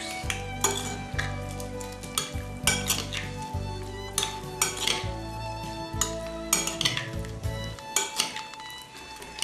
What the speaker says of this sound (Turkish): tuz ve zeytinyağı. Güzelce karıştırıyoruz.